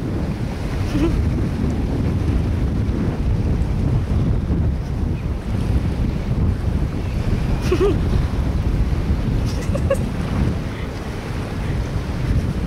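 Strong wind buffets an outdoor spot in Samoa by the sea, a loud, steady low roar and rumble of gusts battering the microphone, with surf-like wash beneath and no clear talking.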